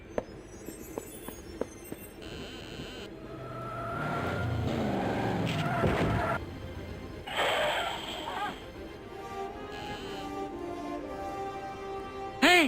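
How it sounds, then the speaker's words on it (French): A red sports car speeds away in a Broken Sword video game scene, the engine swelling and whooshing off mid-clip amid ambient game sounds and brief voices. "Une grosse voiture de sport rouge."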